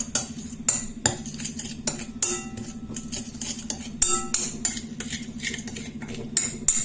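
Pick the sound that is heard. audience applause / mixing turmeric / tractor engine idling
mixing turmeric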